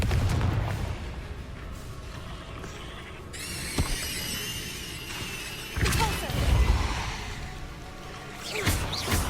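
Confringo fire spell blasts in Hogwarts Legacy, several loud booming bursts in quick succession with bright crackling tails, a voice shouting the spell over the action.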